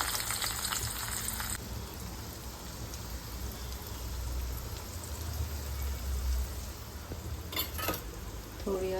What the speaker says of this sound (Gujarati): હવે આપણે એના ધીમા ગેસે ધીમે ધીમે પકાવશું, તેલમાં ચડવા દઈશું